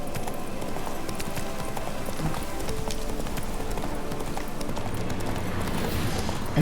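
Horse hooves clip-clop in a steady, even rhythm in The Witcher 3 video game, a continuous close trotting patter over a low ambient game soundscape.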